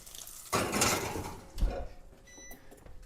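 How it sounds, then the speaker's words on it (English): A dish going into a kitchen oven: a clattering scrape of cookware against the rack, followed by a heavier thud as the door or tray knocks shut, close and fairly quiet. "We're going to pop that in the oven."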